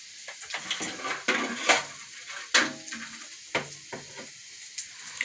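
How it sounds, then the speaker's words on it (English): Bacon sizzling in grease in a skillet with a sprinkle of seasoning salt, a soft frying hiss punctuated by clinks and scrapes of a utensil against the pan. "I just put just a little seasoning salt on the bacon in the grease, and I'm letting it cook down"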